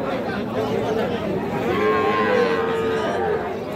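A heifer calf lets out a drawn-out moo at a livestock market amid a busy, murmuring crowd of people and other livestock nearby.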